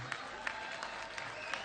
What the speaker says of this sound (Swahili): makofi kwa governor.